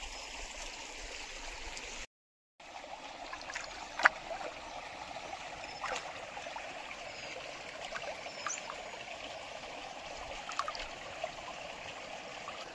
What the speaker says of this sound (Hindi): कल कल धारा बहता हुआ पानी, शुद्ध पानी, कल कल बहती हुई नदी